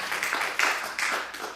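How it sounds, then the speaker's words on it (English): Light, scattered clapping from a comedy-club audience, a few bursts of hands over 1.5 seconds with a faint voice or two mixed in, modest and close. "Does that get a clap?"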